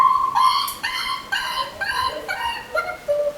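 A French Bulldog with a cervical hernia yelps and cries in pain, a loud, close series of high-pitched, tonal yips and whimpers repeating in quick uneven bursts.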